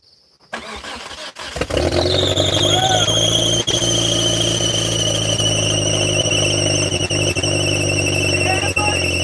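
A Suzuki GSX motorcycle engine started with the clutch: a brief cranking burst, then the engine catches and runs loud and steady with a high whine, a few sharp clicks and knocks over the idle.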